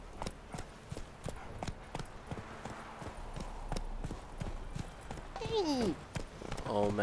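Hoofbeats of Roach, the horse in The Witcher 3, a steady clip-clop of walking hooves close by throughout, with a short whinny near the end and a voice talking over it.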